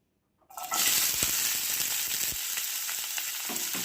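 Onions dropped into hot oil in a pan burst into a sudden loud sizzle after a moment of quiet, then settle into a steady, close crackling fry with a few faint stirring scrapes.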